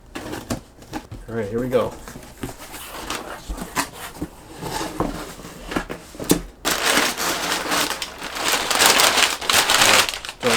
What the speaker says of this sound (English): Got my X-Acto knife. I'm just gonna cut this open.